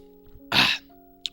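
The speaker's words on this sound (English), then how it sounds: "I'm about to cough" A single short, close cough from a man, one harsh burst over a faint background hum, followed by a brief soft sound afterward.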